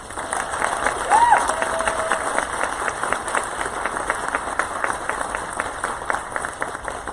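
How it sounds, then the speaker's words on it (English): Crowd at a high school awards night applauds a state-trophy championship team, a steady wash of clapping and cheering held at an even level for several seconds, with a brief whistle near the start. "Let's give them a round of applause."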